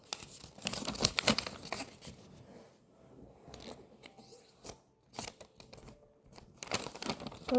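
Paper being folded and creased into an origami tank. Close crinkles, rustles and sharp creasing snaps come in irregular bursts with short quiet gaps between them, and no talking.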